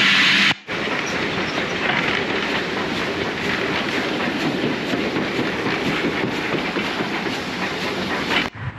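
A steam train rumbles steadily along the rails with a continuous rattling clatter, loud and close, running without a break.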